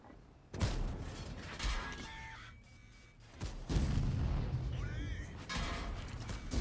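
Tank cannon shots in a ranked tank battle video game, sharp booming blasts with a couple of loud hits and rumbling aftermath, heard under a player talking.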